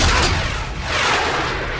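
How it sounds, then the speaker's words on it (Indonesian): Dense, continuous gunfire from a film scene, with soldiers firing at an RPG team on an island held by criminals and separatists near a plane. It sounds loud and close as a sustained fusillade with no pauses. "Berkat tembakan Gasper, RPG itu meleset hanya beberapa senti dari p"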